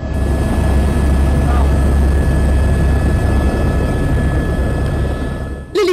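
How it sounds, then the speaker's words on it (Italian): A helicopter passes over Palinuro with a loud, steady rotor roar and a deep low-end rumble, holding strong throughout and fading slightly near the end before a brief burst. "L'elicottero che nei giorni scorsi ha sorvolato Palinuro non è passato inosservato."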